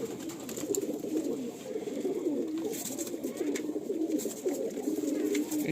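Kasuri pigeons kept for sale cooing close by, a continuous series of low, soft, rolling coos repeating throughout, with faint background noise.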